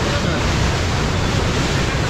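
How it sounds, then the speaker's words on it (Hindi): Water rushes through the old headworks at Head Jamrao in Pakistan, built in 1889, as a loud, steady broadband roar with no pauses. "ये देखिए जी यहाँ से पानी का बहाव चेक करें"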